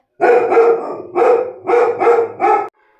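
A dog barks five times in quick, uneven bursts, loud and close, with no talking.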